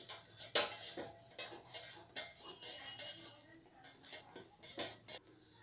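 A utensil stirring dry fruits into eggless Christmas cake batter in a bowl makes faint scraping and scattered sharp metallic clinks against the bowl, quiet and irregular.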